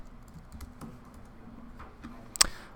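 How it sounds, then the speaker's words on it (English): Soft, scattered keystrokes on a computer keyboard as a password is entered, quiet and close, ending with one sharper key press near the end; no talking. "and type in my password"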